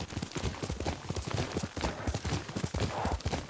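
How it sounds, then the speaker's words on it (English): In Ghost of Tsushima, a horse's hooves clip-clop in a steady, rhythmic gallop across the ground. The hoofbeats are close and fairly quiet, with soft ambient noise underneath. "She came this way. Yuriko's horse."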